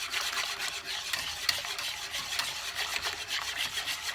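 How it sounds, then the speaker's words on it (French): A spoon stirs a thickening homemade chocolate cream mixture in a saucepan, making a continuous soft scraping and rubbing with faint sizzle-like texture, quiet and steady with no voices. "On ne s'arrête pas de mélanger pour éviter que ça colle ou que ça brûle au fond de la casserole"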